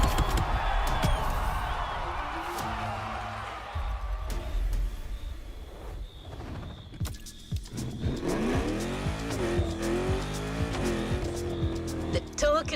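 A Mercedes AMG One races in The Crew Motorfest, its engine revving and rising in pitch through gear changes, with tire noise and game sound effects and a voice talking over it.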